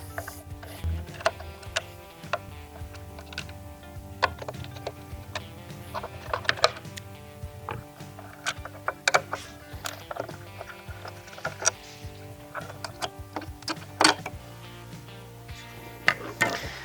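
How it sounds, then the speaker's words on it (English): A Phillips screwdriver clicks as it removes tail light screws on a 2018+ Jeep Wrangler JL, making rapid ratcheting ticks in uneven bursts, close-up and fairly quiet, with no voices. "And take a Phillips screwdriver."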